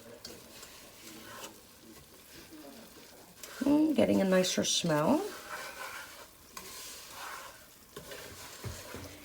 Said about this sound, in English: you're going to hear this sizzling. The sizzling will get stronger as you go.